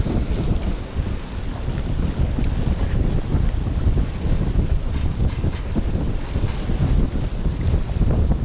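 Strong wind sweeps across a fishing pier on Florida's Gulf Coast, buffeting the microphone in a loud, continuous rush with gusty surges and a low roar of water underneath, and nobody speaking.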